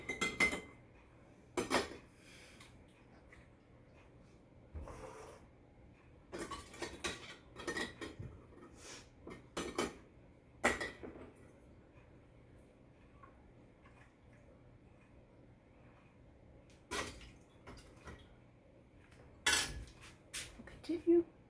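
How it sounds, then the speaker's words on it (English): Scattered clinks and taps of a utensil against a glass canning jar as hamburger meat is spooned in for beef barley soup, the short bursts spread out with quiet gaps between them. "So what I'm going to do is I'm going to add 1 cup of hamburger"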